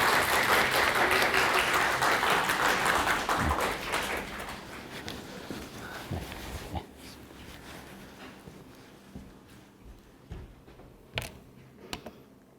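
Audience in a university lecture hall applauding to welcome a new professor before his seminar, loud dense clapping for about four seconds that tapers off into scattered claps and a few late isolated claps.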